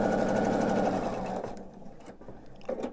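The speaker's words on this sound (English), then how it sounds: "let's go ahead and sew." A sewing machine stitches a quilt background seam, running steadily and fairly close for about a second and a half before slowing and stopping, followed by faint handling noises.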